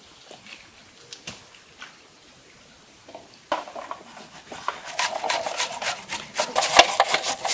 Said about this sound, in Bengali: আর এদিকে কদুটা ঘষতেছে